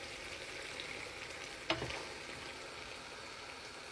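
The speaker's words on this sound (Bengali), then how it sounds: "এখন বিসমিল্লাহ করে খাসির রানটা দিয়ে দিব" A leg of goat is dropped into a hot cooking pot and sizzles, a sharp burst of frying at the moment it goes in, then a steady crackle and hiss that goes on with no talk.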